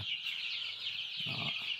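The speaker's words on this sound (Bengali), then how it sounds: "পনেরোটা মুরগির বাচ্চা এখানে আছে" Young chickens and chicks on a small farm cheep continuously over a steady background, with a couple of low clucks from a hen cutting in toward the end.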